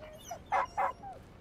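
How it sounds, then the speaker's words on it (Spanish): A dog in The Inquisitor video game barks and yips, a short whimper followed by two louder barks and a softer trailing whine, close and isolated without speech. "Ahí viene el perrito."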